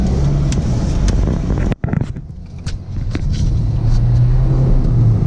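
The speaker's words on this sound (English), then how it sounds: "So there's a Camaro coming." A Chevrolet Camaro drives past on a street, its engine rumble loud and close with a sharp gust of wind noise as it passes, then fading into a steady traffic drone.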